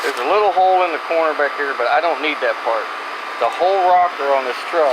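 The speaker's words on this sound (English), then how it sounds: "Excuse the noise in the air conditioner." A steady air-conditioner hum runs underneath someone talking close to the microphone throughout.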